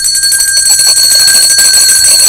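Loud, bright bell jingle opening a Haitian news broadcast, with sustained ringing tones repeating steadily throughout, alone with no talk.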